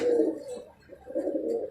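A small teddy pigeon gives a low, throaty coo in two drawn-out phrases with a brief pause between them, close and clear with no talk.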